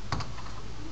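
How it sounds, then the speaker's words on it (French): Computer keyboard typing picked up by a nearby microphone: a couple of quick clicks and then lighter taps, faint beneath a steady hiss of background noise. "on va entendre tout ce que je fais quand je vais taper sur mon clavier, ma souris et tout"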